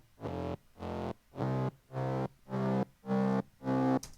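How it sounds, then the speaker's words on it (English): A gritty, distorted fuzz bass synth, a Serum patch with a pumping effect, plays seven evenly spaced notes, each swelling in and cutting off in a steady rhythm. "So this is the fuzz bass here."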